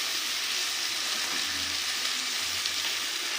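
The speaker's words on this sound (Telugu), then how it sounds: "ఇందాక మనం కడిగి పెట్టుకున్న చిక్కుడుకాయలు వేస్తున్నాను" Washed broad bean pods fry in a hot pan with oil, giving a steady, even sizzling hiss close by with a faint low hum beneath and no talking.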